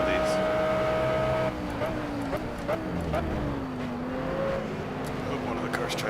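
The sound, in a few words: race cars passing in Project Cars video game, Audi R8 GT3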